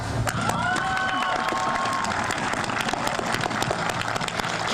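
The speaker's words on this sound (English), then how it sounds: "can we just give a round of applause for our amazing staff?" Applause at a high school graduation ceremony for the staff; continuous crowd clapping with some cheering sits under a sustained tone throughout.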